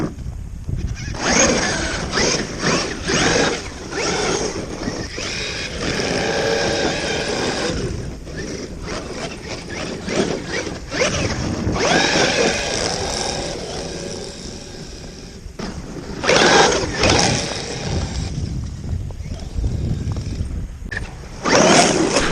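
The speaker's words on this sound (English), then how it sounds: "That's the tires making noise." The tires of a used Traxxas X-Maxx RC truck make a loud, rough, continuous scraping whir with uneven surges and bursts that run throughout, and no one speaks.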